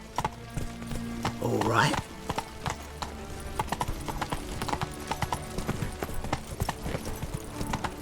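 Horse hooves clip-clop in a steady rhythm while riding in The Witcher 3: Blood and Wine, with a brief whinny early on, game music and a short spoken line over the trotting.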